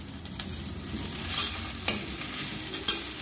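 Onions with mint sautéing in a pan make a soft, low sizzle punctuated by occasional spoon knocks and scrapes against the pan, fairly quiet and without talk.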